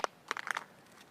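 A Samsung Galaxy Note 5 with Gorilla Glass 4 dropped from head height strikes a hard surface with a sharp crack, followed by a quick clatter of several smaller bounces, close and alone.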